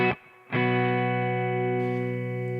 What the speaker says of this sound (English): drive, or overdrive it's sometimes called, basically takes the signal and, well, distorts it